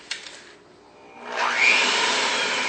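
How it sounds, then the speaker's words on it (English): An electric hand mixer starts up in chocolate cake batter, a faint click followed by a rising steady whir that settles into a loud, continuous hum, close by and alone. "We'll grab our mixer one more time."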